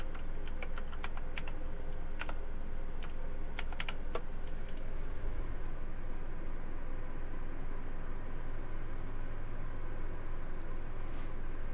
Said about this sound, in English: Now you have to type in the password that you typed in.